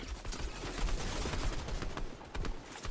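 Gunfire in a Fortnite zero-build arena trios match crackles in rapid bursts and overlapping shots, loud and dense throughout with no clear pauses.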